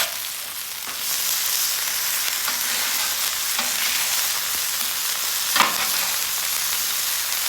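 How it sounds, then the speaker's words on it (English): Burgers and onions sizzle loudly on a flat-top griddle while a Harlem-style chopped cheese is cooked, a dense, continuous frying hiss close by with a few soft scrapes and clanks of a spatula. "Go ahead and flip these burgers."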